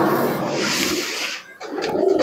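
Pakistani high-flying pigeon cooing close by in soft, repeated throaty bursts, with a brief lull before the coos resume louder.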